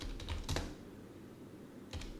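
A prompt being typed on a computer keyboard: a quick cluster of soft, close key clicks, a quiet pause, then another short burst of keystrokes.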